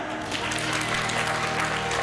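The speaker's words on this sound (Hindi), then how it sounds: "बजाओ एक बार तालियां।" An audience claps steadily through a brief stretch at a Hindi spiritual discourse, the applause dense and moderately loud over a sustained low hum.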